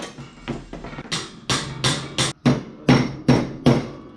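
A hammer tapping a steel panel around dies on a VW Kombi ute restoration, about a dozen sharp close metallic knocks in an uneven rhythm, alone without talk.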